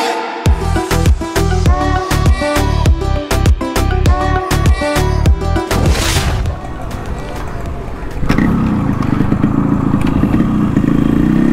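A Yamaha RX 100 two-stroke motorcycle with a disc brake, kicked over and then idling and revving close by, with loud rhythmic engine pulses followed by a steadier, rougher running note.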